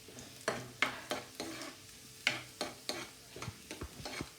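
Garlic and chili sautéing in oil in a pan, with repeated stirring scrapes and soft sizzling in a loose, uneven rhythm, close and moderately quiet, with no talking.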